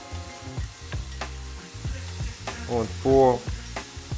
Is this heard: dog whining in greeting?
no